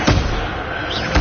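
Incendio fire spells cast in Hogwarts Legacy, two loud whooshing bursts at the start and end with a dense roaring spell effect sustained between them.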